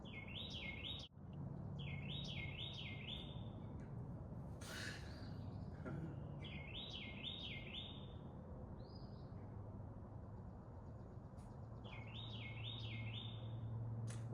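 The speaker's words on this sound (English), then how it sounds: "birds are loud." Birds chirp loudly from a nearby tree in repeated bright bursts of song, several short phrases recurring across the clip over a steady low background rumble.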